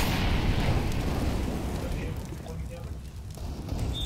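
A grenade blast in CS:GO, a loud, sustained rumbling boom filling the whole clip and slowly tapering, with a voice talking over it.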